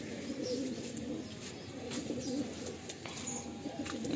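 Pigeons in a loft coo softly and repeatedly at a moderate distance, with a faint murmur of activity in the background.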